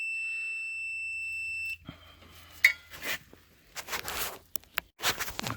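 Multimeter continuity tester beeping on a starter wire of a Mule 3010 utility vehicle, a steady high tone for under two seconds, then stops, followed by scattered handling clicks and rustles nearby.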